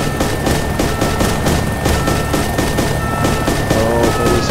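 Rapid, dense gunfire in the video game DayZ, loud continuous bursts of shots with booming impacts and no pause.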